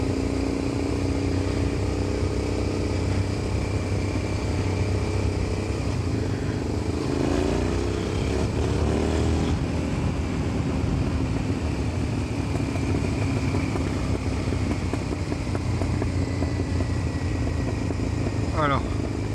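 A motorcycle cruises along winding country roads in the Dordogne near La Roque-Gageac, its engine droning steadily with wind rush while the rider talks over it.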